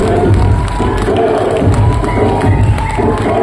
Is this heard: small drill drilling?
no